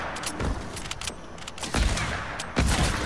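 A few bursts of video game gunfire crack out over a noisy background, the loudest two shots landing near the end.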